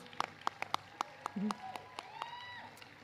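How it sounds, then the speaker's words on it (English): A short burst of clapping at a high school graduation ceremony, a handful of sharp claps in an uneven rhythm rather than a full crowd ovation, with a voice speaking over part of it. "That deserves applause."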